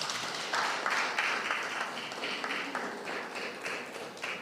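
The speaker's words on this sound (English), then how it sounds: "Let us give a warm round of applause to our panelists" An audience at an Anguilla Bar Association panel discussion applauds to welcome the moderator, giving moderate, even clapping from many hands at mid distance, steady throughout and without voices on top.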